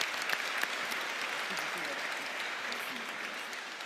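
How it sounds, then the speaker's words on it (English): An audience at a cyber security conference applauds the panelists, a dense sustained patter of clapping that tapers gradually, with a voice faintly heard beneath. "A big round, warm round of applause for our panelists, please."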